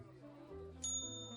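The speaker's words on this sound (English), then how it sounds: "there's that darn bell again" A small bell gives a single bright ding near the end, ringing briefly and faintly over a soft, steady low background.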